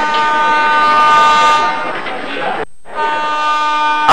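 Train pulling out of a station, a loud steady rumble with sustained horn-like tones and a brief cut midway, with background noise and possible faint voices.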